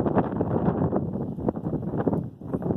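Strong wind blowing over a hilltop during heavy rain, a loud, steady rushing roar buffeting the microphone with gusty surges throughout.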